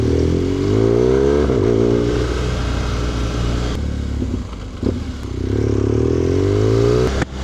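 A motorcycle on the Brands Hatch circuit during a rider skills day: a loud, close engine drones steadily, climbing through the gears with a couple of brief dips and rises in revs, alone.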